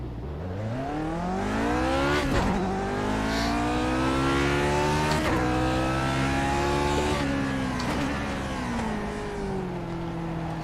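Race car engine in the GPL racing sim held at full throttle on the grid, a loud continuous high-revving drone with rising harmonic sweeps as revs climb and dip several times.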